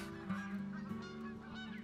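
A golden goose in the hunting game theHunter: Call of the Wild gives a steady run of nasal honks, fairly close and loud, with no talking over it.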